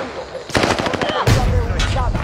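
Video game shootout: two loud bursts of rapid automatic gunfire, one at about half a second and another just after, each rattling on with echoing tails over dense background noise.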